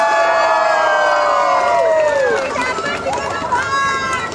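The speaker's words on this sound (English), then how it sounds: "Put your hands a little louder. You can make some noise if you've got umbrellas in your hands." A crowd at an outdoor fashion show at a cashew festival in Goa cheers and shouts, with high whoops and excited voices, loud and sustained throughout and easing slightly toward the end.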